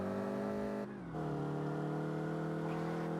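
Rally car engine in the GM Rally racing video game, a steady droning hum with layered harmonics that dips briefly near the start, then holds an even pitch with faint tire noise.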